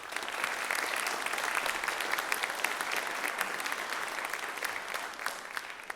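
Steady audience applause fills the whole stretch, dense and even, from a concert crowd honouring performers at a nonprofit ensemble's celebration performance, with no voices standing out.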